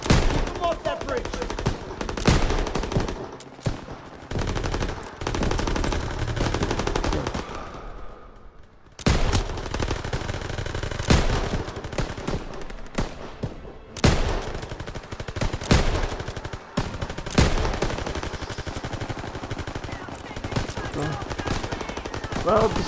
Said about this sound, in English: MGs, open fire! Keep them off that bridge.